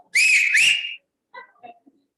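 A loud two-note human whistle rings out to quiet a crowd at an investor meeting, two sustained blasts followed by a few faint murmurs and small noises.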